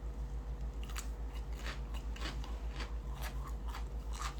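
Raw cabbage chewed close to the microphone, a run of crisp crunching bites repeating at an even pace over a steady low hum, no talk.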